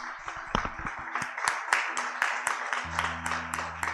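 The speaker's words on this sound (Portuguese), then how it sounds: "Vamos aplaudir ao Senhor?" A church congregation claps together after a prayer, a steady run of sharp, close handclaps filling the room, with a low sustained organ or keyboard note entering toward the end.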